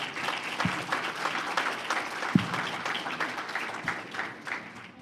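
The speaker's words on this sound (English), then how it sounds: "I want you to give him another round of applause" An audience at a budget town hall applauds in a steady, dense patter of many hands, with a few sharper individual claps standing out over a moderately loud crowd wash.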